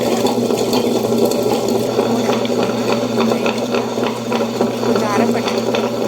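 A wet grinder grinding soaked fenugreek for idli batter churns steadily with a continuous mechanical hum and wet swishing, fairly loud and unbroken throughout.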